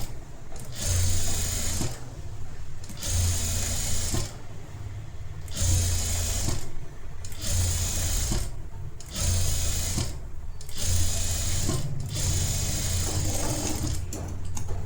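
A sewing machine runs a blouse seam in repeated bursts of steady stitching, about eight runs separated by short pauses, close and clear with no talking.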